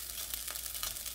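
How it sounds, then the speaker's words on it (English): A steady, soft crackling hiss of teriyaki stir fry frying in a pan, continuous and fairly quiet. "you can hear how it's sizzling, can't you?"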